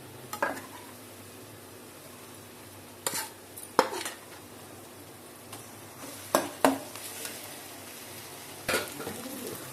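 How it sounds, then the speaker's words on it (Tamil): A spatula scrapes and stirs masala into chopped egg kothu on a hot pan, with a few distinct clattering strokes spaced out over a soft background sizzle. "அடுத்து நம்ம மசாலாவில் போட்டு நல்லா மிக்ஸ் பண்ணிட்டோம்."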